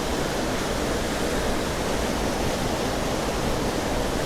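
Waterfall at Craflwyn near Beddgelert in North Wales, a steady, dense roar of falling water that fills the whole clip at close range, unbroken and without voices.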